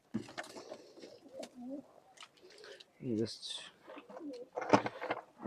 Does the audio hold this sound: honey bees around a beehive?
no